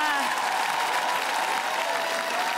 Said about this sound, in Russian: эти аплодисменты звучат в твою честь